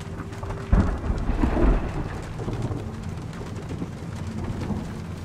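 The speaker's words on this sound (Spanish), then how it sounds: "La tormenta se ve mal." A thunderstorm rages in a video game: a sharp thunder crack and rumble near the start over constant heavy rain hiss, the downpour continuing steadily and loudly with no speech.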